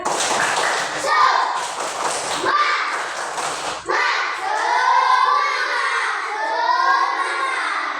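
Classroom children doing the 'tepuk semangat' clapping chant together, rhythmic claps mixed with chanted young voices, close and steady, with a teacher's voice breaking in near the middle.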